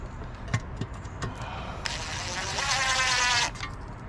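A cordless power driver on its lowest setting eases a screw in during a Kia Soul repair: a few light clicks, then a close, steady whirring whine lasting about a second and a half before it stops.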